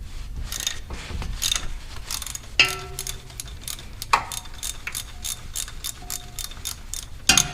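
Ratchet wrench turning a 1/2-inch bolt on the alternator of a 1964 Dodge Custom 880 engine, with bursts of rapid metallic clicking and occasional clanks of the tool, close up and without talk.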